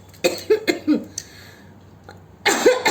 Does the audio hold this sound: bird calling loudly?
no